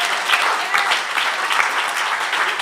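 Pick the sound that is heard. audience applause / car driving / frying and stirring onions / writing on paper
audience applause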